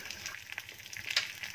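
Finely chopped curry leaves drop into hot oil for a tempering over a coconut chutney, giving a steady soft crackling sizzle with brief brighter pops near the end, close and alone.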